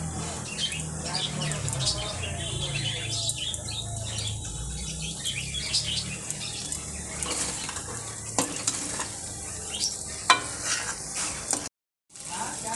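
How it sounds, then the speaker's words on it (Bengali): Ghee sizzles in a pan during prawn pulao cooking, a steady crackling hiss with scattered utensil clinks and scrapes, ending in a brief dropout before resuming. "ঘিটা দিয়ে দিচ্ছি আমি বড় চামচে দুই চামচ মতো"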